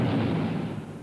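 A torpedo strikes a cruiser and sets off a single deep, rumbling explosion that rolls on and slowly fades, loud and broad with no voices.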